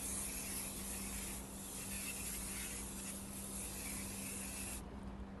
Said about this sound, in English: So what I do is that I just spray around my seats